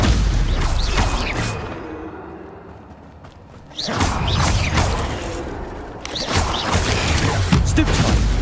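Stupefy spell effects from the video game Hogwarts Legacy, loud booming, crackling bursts in three waves separated by a quieter lull, close and punchy.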